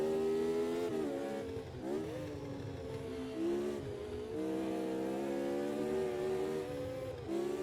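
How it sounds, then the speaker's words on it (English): Vintage Formula Junior race cars drive through a turn, their engines droning loudly and continuously, with pitch rising and falling as they shift and accelerate, and no talking. "Don't these cars sound beautiful as well? He goes down through turn 5."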